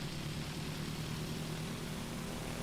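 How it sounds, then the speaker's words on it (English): Piper PA-28R Arrow in Microsoft Flight Simulator 2020, its propeller engine a steady, dense drone with a low hum, unchanging and without talk. "you've got different sounds in different parts of the aircraft"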